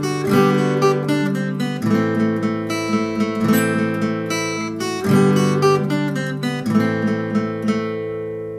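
A lone acoustic guitar picks a lively jig melody, bright plucked notes in a steady bouncing rhythm, close and clear with no accompaniment.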